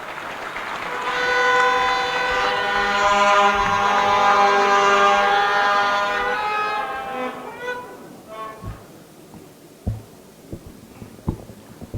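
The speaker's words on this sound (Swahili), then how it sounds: "Tumpokee kwa makofi tafadhali." Applause from an audience at an anniversary celebration event swells into a sustained, dense clatter of clapping, then thins out into scattered individual claps, with a steady tonal hum running underneath.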